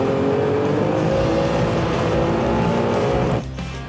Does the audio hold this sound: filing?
no